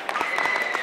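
A high school boys' basketball crowd claps and cheers in a gym at the tense end of the fourth quarter, a brief burst of applause and shouts with sneaker squeaks.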